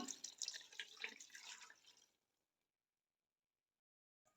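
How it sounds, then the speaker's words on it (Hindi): Water splashes into a cooking pot while beef trotters (paya) are being prepared with tomatoes, a steady close pour lasting about two seconds before cutting off into near silence. "अब इसमें मैं डालूंगी पानी।"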